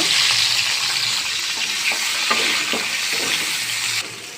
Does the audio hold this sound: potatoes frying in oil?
yes